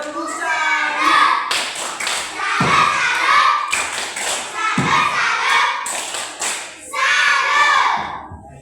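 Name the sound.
children clapping the 'tepuk salat' clap chant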